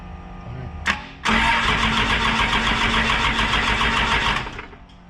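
A 12 valve Cummins diesel swapped into a Ford OBS truck gives a short crank burst, pauses, then fires and clatters loudly for several seconds in a rhythmic diesel rattle before winding down, close up, with no voices.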